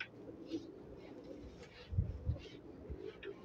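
Fancy pigeons coo softly in a low, throaty murmur of a few short calls, faint and set against light wind and background noise.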